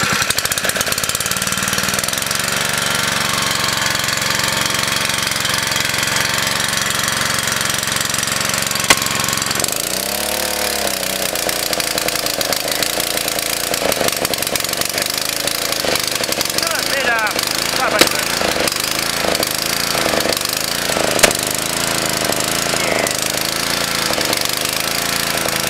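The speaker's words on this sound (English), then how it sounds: "It was running as if the chafe was half on before, but now it's a bit better than what it was." A Honda GX140 small engine runs after a service, a continuous loud mechanical drone with knocking texture and shifting pitch as revs change, with occasional sharp pops and a voice talking over parts of it.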